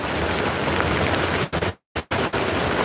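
Heavy rain pours down outdoors in a steady, loud, dense hiss that cuts out briefly for a moment before resuming.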